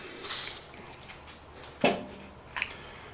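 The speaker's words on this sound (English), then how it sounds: "Spray the bar." A short hiss of hairspray sprayed onto a Honda Grom handlebar for grip installation, followed by a couple of quiet knocks and handling noises.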